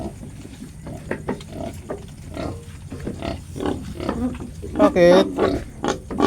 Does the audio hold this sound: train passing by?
no